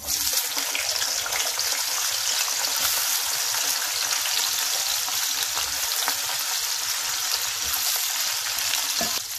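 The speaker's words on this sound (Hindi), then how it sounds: "अब इसी तेल में हमको हमारे आलू भी फ्राई कर लेने हैं।" Potatoes fry in hot oil with a constant, dense sizzle and occasional soft crackles, close and steady for several seconds with no talk.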